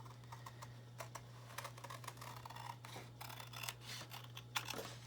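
Scissors snip through silver card paper in a run of quick, dry crisp cuts, close and fairly quiet over a steady low electrical hum.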